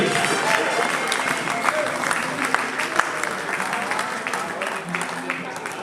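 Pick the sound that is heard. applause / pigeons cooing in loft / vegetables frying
applause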